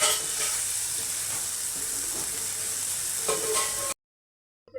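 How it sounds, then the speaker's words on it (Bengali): Masala spice paste for a tomato and tangra fish curry fries and is stirred in a pan, a steady close sizzle with scraping of the stirring, ending abruptly. "এই যে মশলাটা কষাই নিচ্ছে খুব সুন্দর করে"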